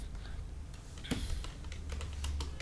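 Keys tapped on a computer keyboard while entering a prompt for a percentage calculator, a few quick soft clicks against faint background hum.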